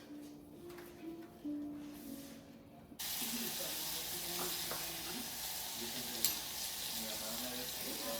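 Fresh homemade pasta cooks in boiling water. A quiet stretch gives way to a steady bubbling, sizzling hiss with a few faint clinks.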